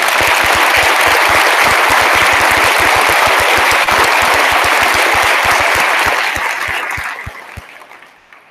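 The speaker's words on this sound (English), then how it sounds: "so if we could please just acknowledge Beth for the round of applause" A crowd at a vigil claps in a sustained round of applause, dense and steady for several seconds before thinning out and fading away.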